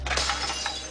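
Glass shatters in a busy kitchen during a children's cooking competition, a single short, bright crash with scattered tinkling and no talking.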